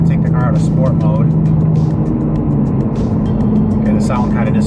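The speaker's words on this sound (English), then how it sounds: "We call it droning, but you can hear the exhaust" Low steady exhaust drone from a Toyota GR Supra under throttle, a continuous hum filling the cabin the whole time, with someone talking over it.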